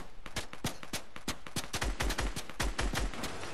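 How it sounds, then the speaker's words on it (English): Rapid gunfire in Fortnite: a fast, evenly spaced run of sharp shots, several dozen in under four seconds, loud and close with no talking. "Listen, this is how I was shooting."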